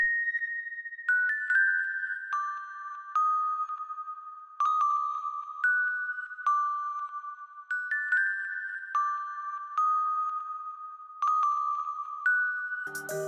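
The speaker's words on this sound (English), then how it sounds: "this bell was halftime, so I'm gonna go ahead and solo it and play it without the halftime" A soloed electronic bell sample from an FL Studio trap beat plays at normal speed without halftime, a clean melodic sequence of bright chime notes, each one struck and decaying, in a steady repeating pattern.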